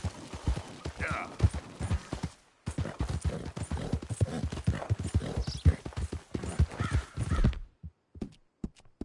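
Horse hooves clip-clop in Red Dead Redemption 2 at a steady, rhythmic gait, sharp and close, with a brief break early on and the steps thinning out at the end.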